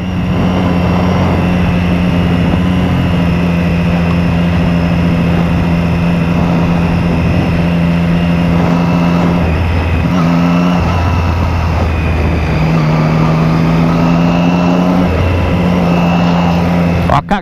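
A steady engine drone with shifting tones, continuous and fairly loud throughout, like a motorcycle running underway, with pitch dips as it changes speed.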